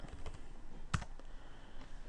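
Keyboard typing with a quick run of key clicks and one sharper, louder keystroke near the middle, close by against a quiet background.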